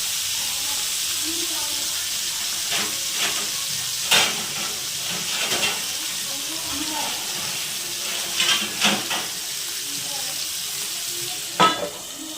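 Tomatoes frying in a pan for a bread sandwich, a steady sizzle and hiss broken by several short louder bursts as the pieces are stirred, with no talk over it.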